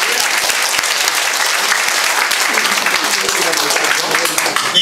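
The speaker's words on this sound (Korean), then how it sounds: "큰 박수를 드리고 싶습니다" A large audience at an inauguration ceremony for the new chairman of a presidential memorial foundation breaks into loud, sustained applause, a dense roar of clapping filling the room with some crowd noise mixed in.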